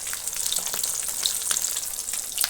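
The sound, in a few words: fish frying in oil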